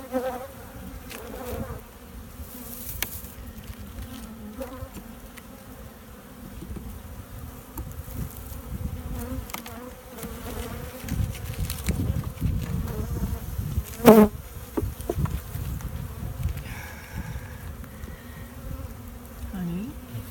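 Honey bees swarm around an open beehive, their close buzzing droning steadily for twenty seconds as individual bees pass near, with occasional quiet voices and handling noises in the background.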